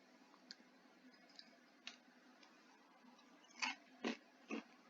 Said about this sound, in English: Now, yeah, me typing.